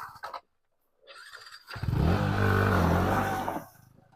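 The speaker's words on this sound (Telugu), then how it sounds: "బైక్ కొంతవరకు అయితే వెళ్తుంది." A motorcycle on a rough forest track roars up after a brief quiet moment, its engine loud and close with a steady throbbing note that holds for a couple of seconds before easing off.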